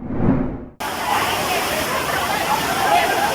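A stream flooded by torrential rain rushes with a dense, steady roar of churning water, loud and close, cutting in abruptly after a brief muffled voice at the start.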